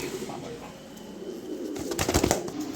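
A big male club pigeon coos softly up close, low throaty calls under ambient noise, with a burst of wing flutter or rustling near the end.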